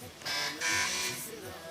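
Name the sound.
quiz show buzzer being tested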